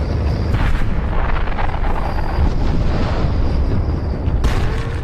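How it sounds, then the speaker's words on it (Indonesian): Explosion of an outpost in a film about the aftermath of an alien invasion, a loud sustained roar of rumbling blast and debris that fills the whole stretch with dense, continuous low noise. "Ryan meledakkan Outpost 37"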